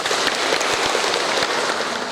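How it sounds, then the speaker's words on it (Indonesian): Applause at a wedding ceremony, a dense patter of many hands clapping steadily for the whole stretch, moderately loud and without speech. "Mari kita beri tepuk tangan."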